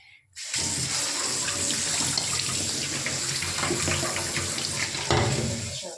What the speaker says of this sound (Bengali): ছোলাটাকে ধুয়ে নিলাম